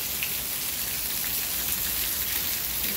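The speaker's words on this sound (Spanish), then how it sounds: "está lloviendo, se los prometo que a cantaradas que está lloviendo" Heavy rain pours down steadily north of Houston, Texas, with some wind, a dense, continuous hiss of drops hitting surfaces with no pauses.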